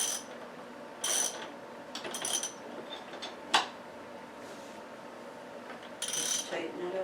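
Ratcheting clicks come while a part is tightened during a dirt bike tire installation. Short bursts of ratchet clicking repeat at intervals, and a sharper metallic tick sounds in between. The clicks are fairly close but quiet, with no talk over them.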